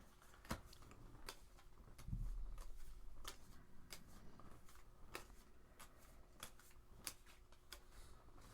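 A deck of playing cards being shuffled during a tabletop card game, with sharp riffling bursts and card snaps repeating at irregular intervals, faint and close with no talking.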